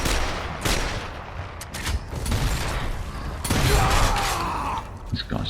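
Gunfire in a Gears of War Remastered multiplayer match on the Canals map, with dense bursts of shots and mechanical clatter running continuously through a busy game mix.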